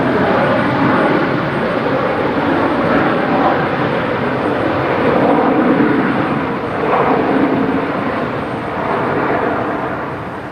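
An airplane taxis at Brisbane Airport at night, its engines giving a steady, loud broadband roar that swells slightly and holds throughout.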